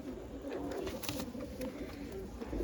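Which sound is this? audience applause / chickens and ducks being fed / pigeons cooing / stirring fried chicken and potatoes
pigeons cooing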